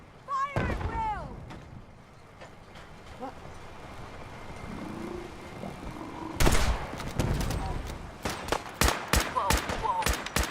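Gunfire in Fallout 4's Far Harbor, starting with a shot among game voices and quieter ambience, then bursts of rapid, loud, close shots in irregular clusters through the second half, with shouted voices in between.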